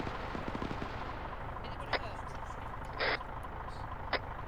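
Sharp cracks of gunfire snap past in the open air, three distinct bursts spaced about a second apart over a steady wind-blown background, with faint low thumps early on.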